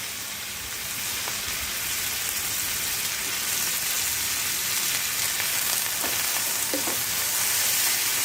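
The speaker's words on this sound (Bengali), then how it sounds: "এবার ভালোভাবে একটু ভেজে নিচ্ছি" Chopped carrot and potato frying in oil for vegetable noodles, a loud, dense, unbroken sizzle like steady rain, close up, with occasional faint scrapes of stirring beneath it.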